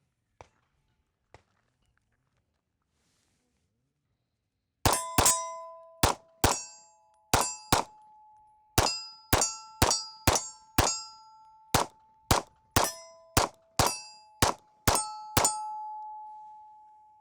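Compact handgun with an extended Glock magazine firing on a range, about fifteen sharp, loud shots in an uneven series with brief ringing tails, after a few faint clicks and several seconds of near silence.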